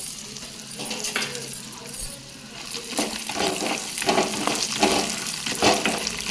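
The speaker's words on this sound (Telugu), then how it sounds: "వేయించుకుని దీంట్లో పల్లీలు వేసేసుకుందామండి" Urad dal and peanuts fry in hot oil in a pan, giving a steady crackling sizzle with scattered pops and the scrape of stirring, close and continuous with no talking.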